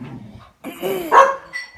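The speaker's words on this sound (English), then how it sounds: "She's barking." A dog gives a couple of short, close barks with a whiny edge, separated by brief pauses.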